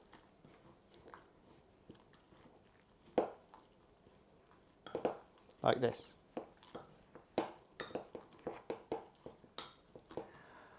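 Spoon scrapes and taps against a bowl as dates are stirred in hot water, a string of quick sharp clicks and knocks close by, with a voice speaking briefly.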